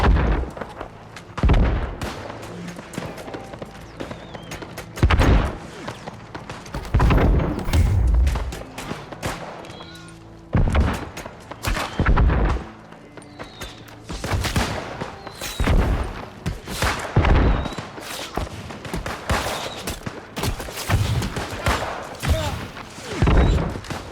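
Siege war in the video game New World: heavy cannon blasts boom again and again at irregular intervals, loud and close, over a constant layer of battle noise with gunfire and thuds.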